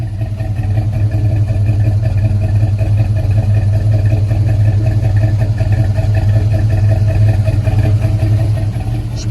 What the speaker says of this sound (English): you could hear when I was hitting the idle or hitting the throttle there, it kind of dies if you come off of it quick